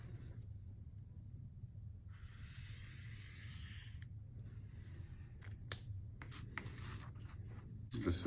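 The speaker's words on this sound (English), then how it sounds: "I'm gonna go ahead and trace my template." Quiet scratchy strokes of a pencil tracing around a template edge, in short bursts with brief pauses, over a low steady background hum.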